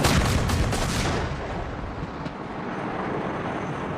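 A Mark 110 naval gun fires live rounds: several heavy, closely spaced blasts in the first second, followed by a long rumbling roar that slowly fades.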